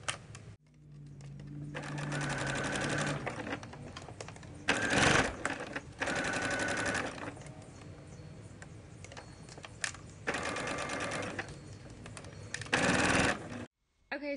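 A sewing machine stitches a bra, probably a top stitch, running in several steady bursts of rapid mechanical whirring with short pauses between them, fairly close and with no talk.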